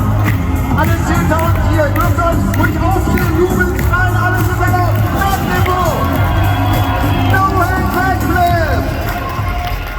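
Ten-thousand-strong arena crowd at a 2023 freestyle motocross show in Dortmund's Westfalenhallen roaring steadily, with cheers and whoops rising over a constant loud wash of babble, amplified music and PA echo throughout.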